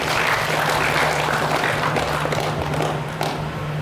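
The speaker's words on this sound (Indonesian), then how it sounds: "Kita berikan aplaus buat panitia semua" An audience applauds the organizing committee at a Malay customary title-conferring ceremony in Pelalawan, Riau: loud, dense clapping from a large crowd that holds steady for about four seconds over a low hum.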